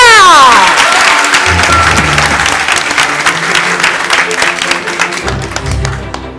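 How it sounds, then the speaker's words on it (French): Loud, sustained applause from a large crowd at a university debate, dense clapping that begins abruptly and continues steadily before tapering slightly at the end. "Je vous demande d'applaudir Aminata Keïta."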